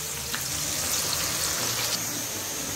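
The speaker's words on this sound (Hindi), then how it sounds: "ऑयल गर्म हो चुका है, अभी हम पकौड़े फ्राई कर लेंगे।" Pakoras fry in hot oil with a dense, loud, continuous sizzle and crackle, close by, with no talking.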